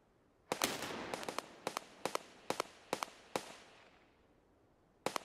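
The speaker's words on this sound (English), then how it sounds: "He's returning fire." Gunfire in the shooter game Escape from Tarkov, a rapid series of sharp cracking shots in uneven bursts with echoing tails, then a pause before two more shots.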